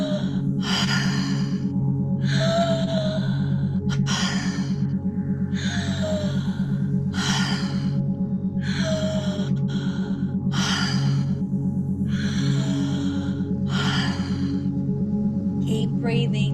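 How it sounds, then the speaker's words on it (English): Someone breathes deeply in and out through the mouth in a guided breathing exercise, with about eight evenly spaced, loud breaths alone over a steady low hum of background music. "We're going to breathe in through your mouth, out through your mouth."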